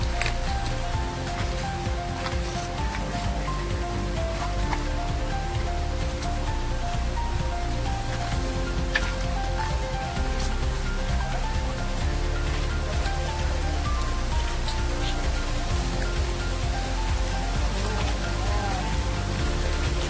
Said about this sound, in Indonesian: ini kita juga nemuin curug lagi nih